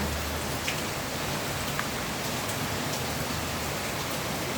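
Heavy rain pours down in a dense, unbroken hiss of drops on surfaces, steady and loud throughout, with no voices.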